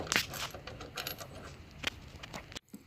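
Metal bolts go back in on a carbon fiber heat extractor hood of a Mustang GT500, giving a few sharp, bright metallic clinks and taps close by, ending in sudden quiet.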